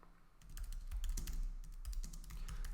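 Rapid typing on a computer keyboard while setting up an automated Playwright test, a steady stream of close, crisp key clicks with no voices.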